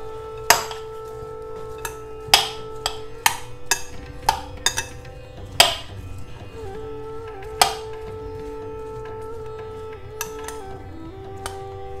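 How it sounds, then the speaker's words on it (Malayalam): A utensil clinks and taps against a bowl while sauce is mixed into chopped vegetables for a purslane salad, giving irregular sharp knocks over a steady background hum. "ഇനി നമുക്ക് ഈ സോസ് നമ്മൾ കട്ട് ചെയ്ത് വെച്ച വെജിറ്റബിളിലേക്ക് ഒഴിച്ചു കൊടുക്കാം നന്നായിട്ടൊന്ന് മിക്സ് ചെയ്തെടുക്കാം"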